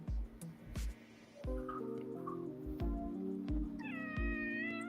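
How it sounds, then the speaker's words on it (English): A cat meows loudly and close several times in a row, long drawn-out calls over a steady background of music, the final meow rising higher and clearer than the rest. "And we have a meow."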